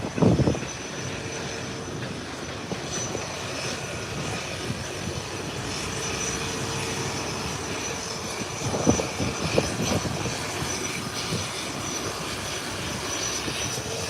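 Aircraft engines run at an airport, a steady distant whine and rumble that carries on throughout, with a couple of louder bumps partway through.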